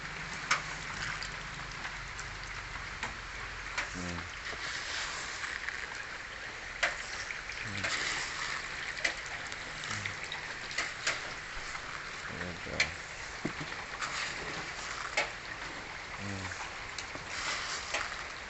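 Light rain patters steadily on a surface near a pond, a soft continuous hiss broken by occasional splashes and knocks.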